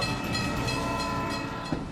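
A train on a railway gives a loud, continuous rumble with a sustained horn-like tone over two seconds, with a brief knock near the end and no one speaking.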